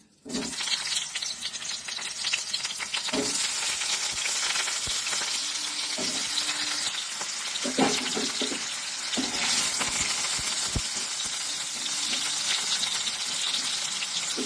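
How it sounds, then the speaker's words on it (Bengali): Potatoes frying in a kadai in a home kitchen while a paneer, capsicum and green pea dish is cooked, giving a steady, close sizzle that runs throughout with occasional scraping and clinking of a spoon. "এবার আলুটা ভেজে নেব।"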